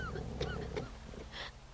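A dog in The Walking Dead Season Two game gives soft whimpers and a couple of short yips, faint and close, over low background music.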